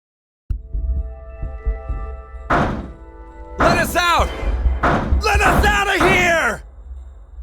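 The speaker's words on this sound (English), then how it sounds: "Bang all you want, it won't open." Heavy thuds of someone banging on a locked door inside a puzzle video game, several dull blows spaced irregularly, with loud shouting voices and groans over them in the middle and later stretch.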